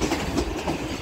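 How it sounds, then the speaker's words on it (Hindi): The Khyber Mail express train arriving at Sadiqabad railway station in Pakistan at dusk, a close, steady rumble of rolling railcars with rhythmic wheel clatter on the track. "और ट्रेन जो है वो सादकाबाद रेलवे स्टेशन पहुंच गई है।"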